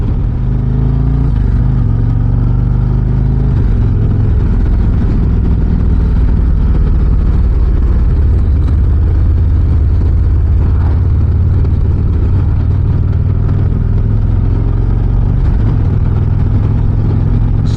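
A 2025 Harley-Davidson Street Glide Ultra's engine rumbles steadily and loudly while riding, a deep continuous drone with slight shifts in pitch and wind noise, and no talk.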